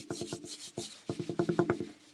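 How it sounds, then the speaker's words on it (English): A wet seaweed sponge wipes etching cream off glass in quick repeated rubbing strokes, close and dry-sounding, speeding into a rapid series near the end with no talking. "I am going to remove the etching cream from this side."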